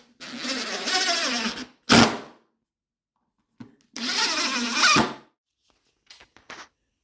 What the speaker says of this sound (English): And you can drive those screws home.